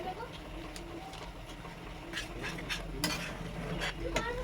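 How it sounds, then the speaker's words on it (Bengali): Garam masala being stirred into cauliflower cooking in a pan, with soft scraping and stirring under a faint steady sizzle and occasional clinks of a utensil. "আমি এবার একটু গরম মশলা দিয়ে দিচ্ছি।"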